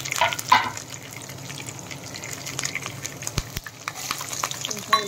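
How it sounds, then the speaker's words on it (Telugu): Chana dal frying in a hot pan as ginger pieces go in, a crackling sizzle broken by scraping stirs and sharp clicks of a spoon against the pan. "శనగపప్పు ఫ్రై అయిన తర్వాత కొంచెం దీనిలో అల్లం ముక్కలు వేసుకోవాలి"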